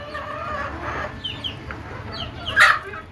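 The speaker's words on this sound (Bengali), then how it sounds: "দেশি মুরগি কীভাবে পালন করবেন" Desi native chickens cluck in short scattered calls, with one louder squawk near the end over a low background hum.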